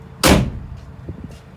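A single heavy thud as the rear door of a 2021 Vauxhall Combo 1.5 L1H1 van is shut, close and loud, followed by faint handling noises.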